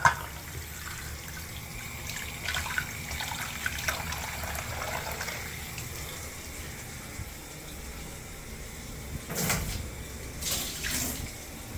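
Fresh tap water runs steadily during a rinse after cleaning with baking soda and vinegar, a soft continuous trickle with a few louder splashes and sloshes near the end.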